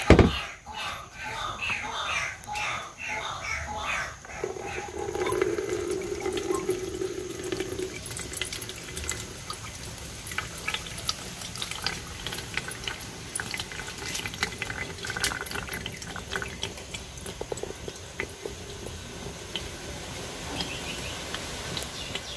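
Liquid pours and trickles as a tapioca leaf organic pesticide mixture is strained, a steady splashing flow with a brief gurgling burst early on, close and without speech.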